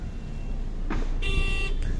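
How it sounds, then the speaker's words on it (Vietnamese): Car horn on a remotely started car chirps briefly at close range, a short tonal beep followed by a second brief one, over a steady low idling engine hum and outdoor background noise. "Còi kêu."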